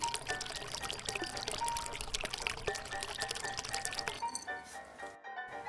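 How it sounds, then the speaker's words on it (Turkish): Water poured slowly into a container for a children's colour experiment with candies, a close, steady liquid gurgle and trickle that thins out and stops near the end. "Suyumuzu yavaşça dökelim."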